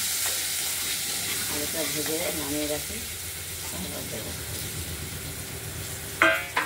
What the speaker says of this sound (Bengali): বাঁধাকপিতে দেওয়া আলুগুলো ভেজে নিচ্ছি।